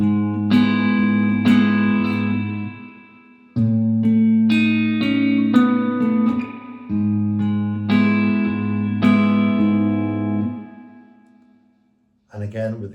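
Plucked chords on a guitar while playing through a song, each strum ringing out clearly and decaying, with several sustained chords separated by short breaks and picked notes layered over them.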